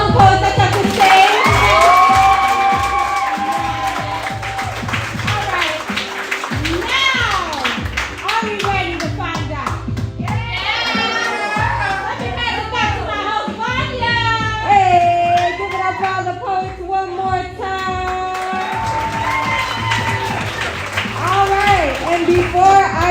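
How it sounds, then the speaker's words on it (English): Audience at an under-21 open mic poetry night clapping and cheering for the poets, a loud, sustained wave of applause with whoops and shouts filling the room for over twenty seconds. "clap it up for all the poets that touch the stage"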